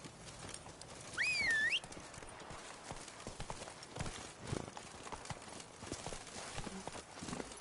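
Horse Roach's hooves clip-clopping steadily on the ground in the Witcher 3 Blood and Wine game world, a continuous trotting rhythm at moderate distance, with a brief whistling tone near the start.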